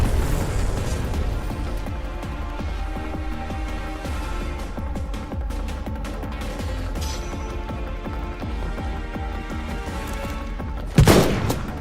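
Rifle fire in Final Fantasy XV, a steady stream of gunshots buried in dense game music and effects, with a louder sharp blast near the end; no talking.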